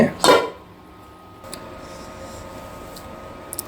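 After cooking, a plate and cooking pots are handled with one loud clatter at the start, followed by a quiet stretch with faint small clinks and a voice.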